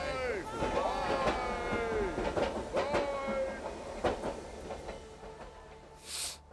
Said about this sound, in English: As soon as the train departed